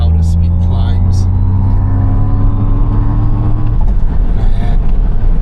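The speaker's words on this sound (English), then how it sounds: "There's that weird engine sound." An MG Cyberster accelerates on a mountain road, its engine note rising in steady harmonic tones that climb in pitch over a constant road rumble, close and loud, with a brief voice near the start.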